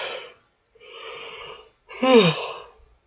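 A person yawns audibly: two breathy exhales followed by a longer, louder drawn-out yawn with a rising and falling voiced tone, close to the microphone.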